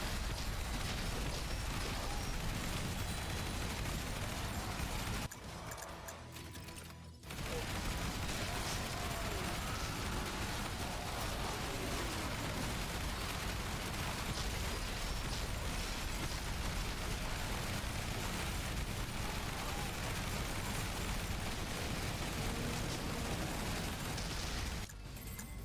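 A shotgun blasts crowds of enemies in Yet Another Zombie Survivors, creating a dense, unbroken wall of rapid bursts and pops that runs for the whole span, with a short quieter gap early on.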